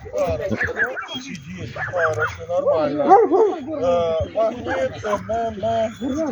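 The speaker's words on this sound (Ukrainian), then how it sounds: "От у нас тепер дві собаки зустрічаються" Pedigree dogs bark and yip in quick, excited bursts throughout, close by, as two dogs meet at a dog training club, with a person talking over them.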